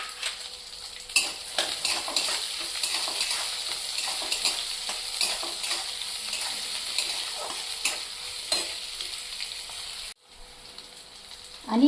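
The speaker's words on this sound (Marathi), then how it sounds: "हे 2 मिनिट आपल्याला असं परतून घ्यायचं, थोडा ब्राऊन होईपर्यंत" Onion, peanuts and green chilli fry in a wok with a steady hiss of sizzling oil, punctuated by intermittent scrapes and clinks of a spatula stirring against the pan.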